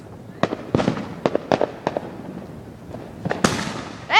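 Fireworks bursting outdoors in a string of sharp, scattered pops and bangs, some close and loud, others fainter, with a bright crackling burst near the end.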